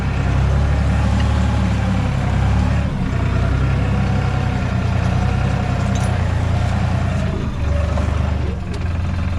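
Massey Ferguson MF3635 tractor engine working a field during ploughing, a loud steady low rumble with a fluctuating throb throughout, heard close up from the cab.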